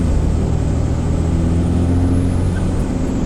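A 2008 Ford F-350 dually pickup with a swapped Cummins common-rail diesel accelerates gently on light throttle, its deep steady engine drone loud and close throughout.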